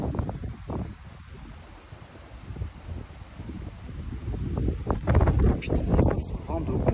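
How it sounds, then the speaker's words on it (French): Strong wind gusts buffet the microphone on a long-distance walk from Luzy to La Tagnière, growing louder and heavier in the second half, with a voice speaking briefly in French. "c'est quoi ce vent de con?"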